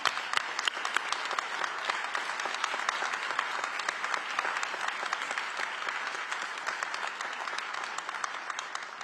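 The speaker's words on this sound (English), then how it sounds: "Can we give them a round of applause?" A crowd at a police department promotional ceremony and academy graduation gives family members a round of applause, with dense, sustained clapping from many hands that holds steady for the whole stretch.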